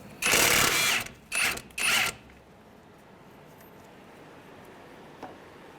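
Impact wrench loosening the strut nut on a 2003-2011 Honda Element, with one long whirring burst followed by two short ones close by, then quiet shop background.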